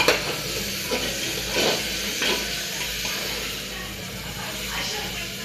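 Biryani stirred in a pot on a gas stove, a steady sizzling hiss with scraping stir strokes near the 0.2, 1.7 and 2.3 second marks, faint background voices.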